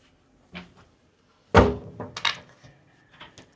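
Pull-out drawers in a Carnival Jubilee cruise ship balcony cabin slide open and shut close by, with a soft early bump followed by a solid thunk and several lighter knocks and rattles.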